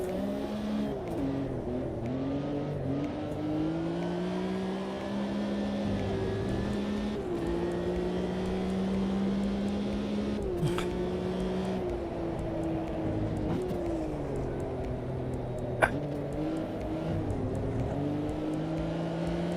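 GT3 Gen 1 race cars in the sim racing game Automobilista 2, engines droning and revving steadily with gear changes and a car passing by, continuous and fairly loud with no voices.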